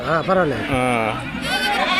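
Goats bleating one after another at a busy livestock market in Andhra Pradesh, loud and close with quavering cries, while people talk over them.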